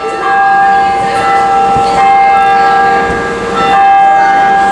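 Church bells ring steadily in Astoria, New York, their long overlapping tones humming and sustaining throughout, with a few strikes swelling louder near the end.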